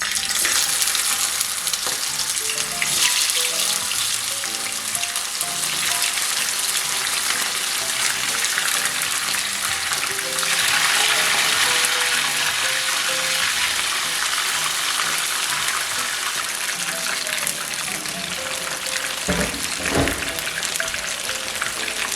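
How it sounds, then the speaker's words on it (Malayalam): Marinated prawns frying in hot oil in a pan over high flame produce a loud, continuous sizzle that holds steady from start to end, with no voices. "ഇപ്പം നല്ലപോലെ ചൂടായി. ഇനി അതിലേക്ക് നമ്മളുടെ കൊഞ്ചിട്ട് കൊടുക്കാം."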